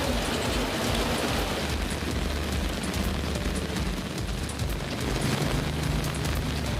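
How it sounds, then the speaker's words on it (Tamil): Heavy evening rain pours down steadily over Chennai's suburbs, including Avadi and Pattabiram, as a dense, continuous roar of downpour hitting surfaces with no voices heard. "இந்நிலையில் மாலையில் ஆவடி, ஐயப்பாக்கம், திருமுல்லைவாயல், பட்டாபிராம், திருநின்றவூர் உள்ளிட்ட பகுதிகளில் கனமழை பெய்தது."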